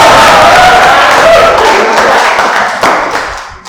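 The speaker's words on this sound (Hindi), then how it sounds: "जोरदार ताली." Steady applause from an audience at a motivational talk, loud dense clapping that holds for a few seconds and then gradually thins out.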